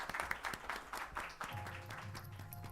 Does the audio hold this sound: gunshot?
no